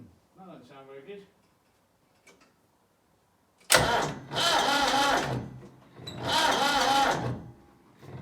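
A Massey Ferguson tractor, restored after fire damage, has its starter motor cranking the engine in two long bursts after a brief voice and a single click, loud and close, with a pause between the attempts.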